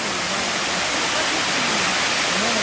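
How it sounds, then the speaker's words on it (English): A steady, broad roar of falling water from Nikolai Waterfall in a gorge in Chechnya fills the scene, constant and unbroken with no voices. "Waterfall."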